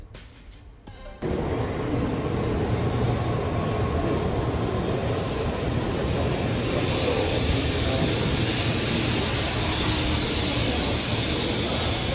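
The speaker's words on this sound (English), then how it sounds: "Then the bullet train arrived." After a quiet moment, a loud, steady rushing roar suddenly rises and holds as a Japanese bullet train sweeps into a station close by.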